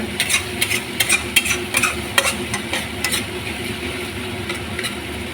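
A spoon scraping and stirring paneer butter masala in a sizzling pan, with repeated clinking scrapes in an uneven rhythm over a steady background frying hiss, close and fairly loud.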